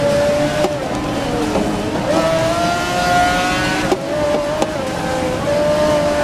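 Race cars in Grid (2019) racing at the start, with engines droning loudly and shifting pitch as they rev and change gear, close and continuous, with a few sharp knocks.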